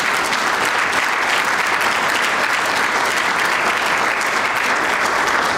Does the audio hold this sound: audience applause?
yes